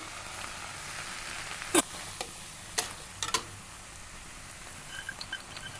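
Sweet corn being stirred and fried in a pan with spices, raisins and cashews: a soft, low frying hiss under a few sharp spoon clinks and scrapes against the pan, with no voices.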